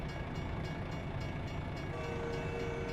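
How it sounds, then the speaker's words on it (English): A train rumbles past a truck in American Truck Simulator, a steady, loud, broad rolling roar with a faint tonal note rising near the end, continuous throughout with no talk. "Oh, train has passed."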